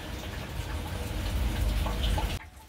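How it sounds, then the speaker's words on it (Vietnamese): Heavy rain pours down on a rainy day in a rural home kitchen, splashing onto the floor. A dense, steady roaring hiss sounds close and loud, then cuts off abruptly just before the end. "Mưa lớn, nãy mưa lớn lắm các bạn."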